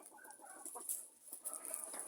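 Bielefelder hens on a small home farm in winter give soft, intermittent clucks and murmurs, close but fairly quiet, with a faint high hiss in the background and no talking.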